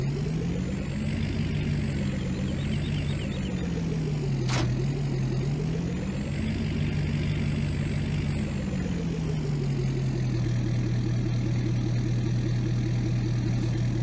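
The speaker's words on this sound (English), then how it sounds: "this Kubota Skidsteer, it's a SVL 95-2S here." Kubota SVL95-2S skid steer in Farming Simulator 19, engine idling steadily with a low, droning hum that rises and falls slightly, plus a brief sharp click near the middle; continuous and close, no talking.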